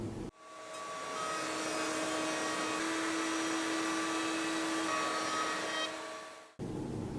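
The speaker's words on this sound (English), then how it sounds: "and you're ready to start routing" A router mounted in a table saw's router table extension runs with a loud, steady motor whine. It starts abruptly, holds constant for several seconds, then cuts off sharply.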